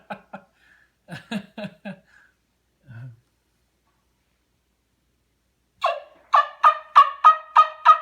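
A homemade wing bone turkey call, blown with a kissing motion through the straw, gives a few scattered high clucks. After a pause come six rapid, loud, raspy yelps in a quick rising run that mimic a turkey.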